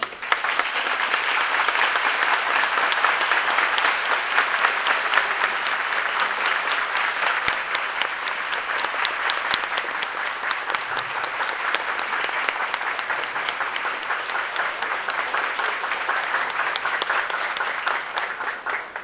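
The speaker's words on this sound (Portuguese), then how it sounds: "Eu queria uma salva de palmas para ele." A church congregation at a Holy Thursday Mass breaks into dense, sustained applause that holds steady for nearly twenty seconds without a pause.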